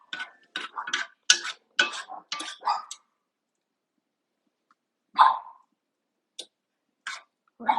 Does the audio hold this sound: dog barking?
yes